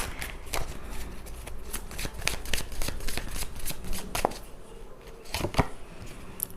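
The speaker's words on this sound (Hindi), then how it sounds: "टैरो के थ्रू देख लेते हैं, थोड़ा सा इसको क्लैरिफाई करते हैं और और कार्ड्स निकालते हैं" Tarot cards are shuffled and drawn by hand for a reading, a rapid run of crisp riffling flicks and slaps close to the listener, steady for several seconds with a couple of sharper snaps.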